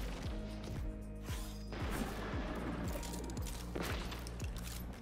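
Grenade explosion amid gunfire in a Destiny 2 PvP match: a rapid run of sharp, punchy shots repeats steadily, with a louder burst and crash partway through, all close and prominent.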